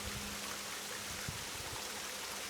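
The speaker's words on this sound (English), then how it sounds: "The water streaming down." A small hidden waterfall sends water streaming down stepped stones, a steady broad rushing wash that stays constant and fairly close, with no voices over it.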